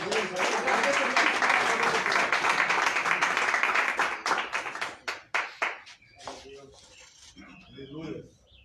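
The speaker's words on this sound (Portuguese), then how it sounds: "As palmas louvam o Senhor." Congregation clapping during a Tuesday church service, dense rhythmic claps for about four seconds, then thinning to scattered claps and fading into murmuring voices.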